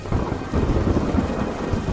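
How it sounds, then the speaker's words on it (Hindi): A rumble of thunder rolls over steady, heavy rainfall, loud and close, with no voices. "अचानक पास के पेड़ पर तेज बिजली कड़की"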